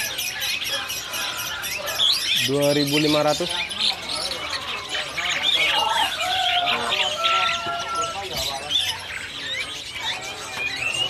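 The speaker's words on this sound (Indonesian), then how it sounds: "Ini jalak Hongkong teman-teman," Caged jalak Hongkong mynas at a bird market stall call with harsh squawks and whistles, including a loud rasping burst, among many other birds while someone talks.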